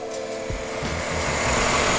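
Chevrolet Avalanche LTZ with a 5.3 liter V8 Vortec engine idling, a quiet, steady low hum that swells slightly toward the end, heard alone with no talking.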